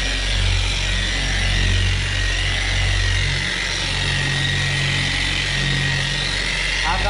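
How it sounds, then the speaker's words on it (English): A car polisher runs at 3000 RPM buffing black paint, a steady loud motor whine and drone held throughout with slight shifts in pitch as the pad moves. "this will be your last step for buffing your car"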